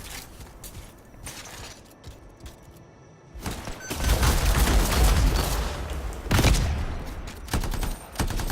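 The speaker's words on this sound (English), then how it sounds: "Have we got two different types of enemies shooting at each other here?" Enemies shoot in Anthem with rapid bursts of gunfire that grow denser and louder partway through. Heavy thuds and mechanical clatter sound between the shots.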